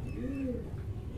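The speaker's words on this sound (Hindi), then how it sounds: "ये कबूतर बैठ रहे ना एक आके" Pigeons coo softly in a low, rounded call over a steady background hum, one short cooing phrase at moderate distance.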